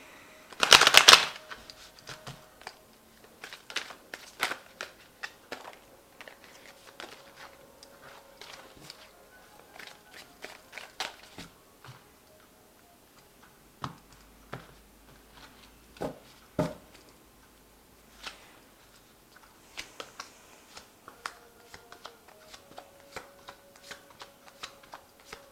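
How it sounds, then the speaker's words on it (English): Tarot cards being shuffled by hand close up: a loud riffle burst near the start, then a long run of soft, irregular card slaps and shuffling clicks with short pauses between. "Let's just give it another shuffle."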